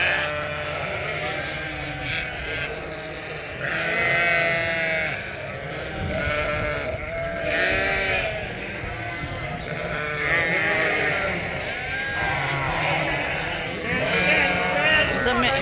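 Several sheep bleat repeatedly and fairly close as the flock moves into a grown-up pasture through a gate, calls overlapping under a steady outdoor background.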